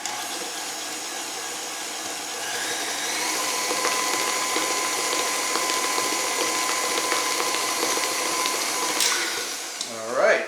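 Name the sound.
electric mixer blending mayonnaise into chocolate cake batter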